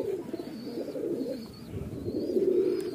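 Domestic pigeons coo continuously in a loft, low rolling throaty calls overlapping in a near, moderately loud chorus, with faint higher chirps above and no talking.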